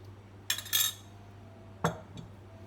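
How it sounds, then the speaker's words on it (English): Muffin batter with fresh fruit is stirred and folded in a bowl, heard as a few sharp utensil clinks and scrapes against the bowl, close and sparse, with quiet gaps between. "stir around the edge and then fold through the middle"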